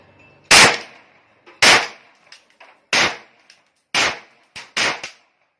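A Sig P320 blank gun fires five test shots. They come as loud, sharp, close cracks spaced about a second apart, each followed by a short ring and faint mechanical clicks.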